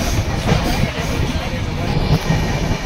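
Mandovi Express morning passenger train running on rails, a steady dense rumble with faint rhythmic wheel clatter heard from inside the carriage throughout.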